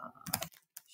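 Keys tapped on a computer keyboard while entering a prompt into a Microsoft Dynamics 365 Copilot test pane, a few quick close clicks in short bursts.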